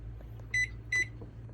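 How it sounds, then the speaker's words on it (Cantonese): A microwave oven heating vegetable oil for 30 seconds gives two short, clear electronic beeps in quick succession over a faint low hum. "首先我哋將植物油放微波爐叮30秒"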